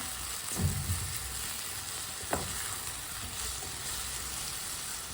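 Tomatoes with chopped green chillies fry over high heat in a quiet steady sizzle, with two brief stirring scrapes near the start and no talking.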